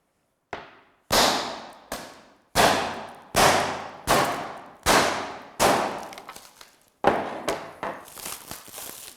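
A glass pane is struck repeatedly while someone tries to snap it in half without a glass cutter: about eight sharp, loud cracking hits, each ringing and fading, spaced roughly a second apart with no talking.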